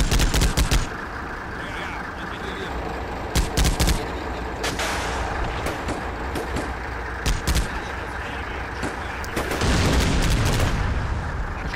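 Gunfire and explosions from the combat video game Combat Mission Shock Force: rattling bursts of rifle and machine-gun fire with heavy booms through a dense battle din, peaking in loud volleys near the end.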